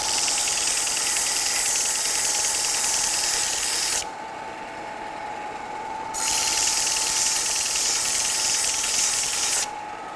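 A pedestal grinder roars loudly while grinding the long edge of a tungsten electrode, a steady high hiss of abrasion that cuts out briefly and resumes, with the motor's hum running underneath.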